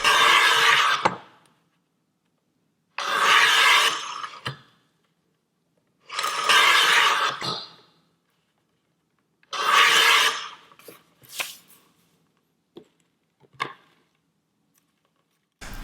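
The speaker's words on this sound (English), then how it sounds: "And here's the sound of it cutting paper, forward and backwards." A Rotatrim M24 professional paper trimmer slices through paper, its blade run forward and backward in four loud, raspy strokes about three seconds apart, followed by a few faint clicks and taps, with no talking.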